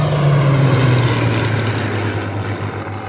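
A Hawker Hurricane, the British single-seat propeller fighter, drones steadily and loudly with a strong low engine tone that dips slightly in pitch as it passes, with no other sounds over it.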